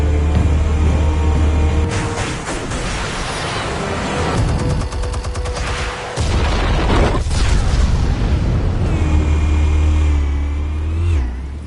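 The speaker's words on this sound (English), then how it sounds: "Explosives armed. Fire when ready." Heavy explosive detonations in a Batman video game, a loud booming blast with rumbling low-end and crackling debris over a sustained engine-like roar, all fairly close and continuous without voices.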